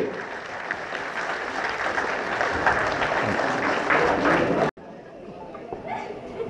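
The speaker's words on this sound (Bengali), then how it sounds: "সবাই বলো তালি" Audience applause at a flower-welcoming ceremony for a guest, loud and sustained clapping from a crowd that cuts off abruptly, then resumes more faintly with background murmur.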